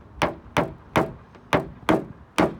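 A paintless dent repair tool taps down a dent on a neighbor's car: six sharp, evenly spaced taps, each a crisp close knock with a quick decay and no talk.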